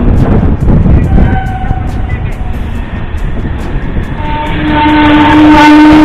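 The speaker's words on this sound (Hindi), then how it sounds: "अपनी ट्रेन लास्ट स्टॉपेज अपनी दिल्ली के सब्जी मंडी रेलवे स्टेशन में डिपार्ट कर चुके हैं" The Janshatabdi Express runs from Daulatpur Chowk toward New Delhi after leaving Delhi's Sabzi Mandi station, with a loud, continuous rail rumble heard from inside and sustained horn-like tones building toward the end.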